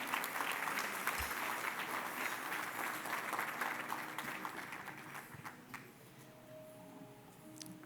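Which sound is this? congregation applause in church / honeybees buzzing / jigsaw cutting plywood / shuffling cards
congregation applause in church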